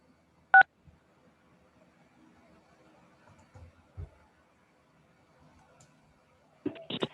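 Telephone keypad tones sound as star and six are pressed to unmute during a phone-in meeting: a short beep early, then quiet with faint clicks, and a couple more beeps near the end.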